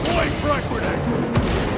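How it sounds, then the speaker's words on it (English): A frag grenade explodes in Warhammer 40K Space Marine 2, its deep boom rumbling through a busy, noisy battle mix of gunfire and chaos that runs continuously across the short moment. "Frag grenade!"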